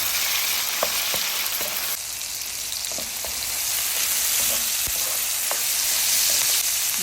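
Tomatoes sautéed in a pan for ginisang upo give a steady loud sizzle and crackle, with a few light clicks and scrapes of a stirring utensil, and no talking.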